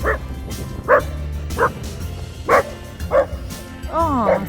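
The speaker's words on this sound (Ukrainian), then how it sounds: "Собачка." A dog barks six times at irregular intervals, close and loud, over a low rumbling background of stormy sea in Odesa, the last bark drawn out into a whine.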